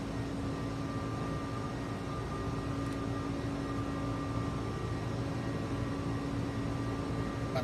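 Steady, even drone of an airliner climbing after takeoff in Microsoft Flight Simulator 2020, a constant broadband roar with faint tonal hum, moderately quiet and unbroken throughout.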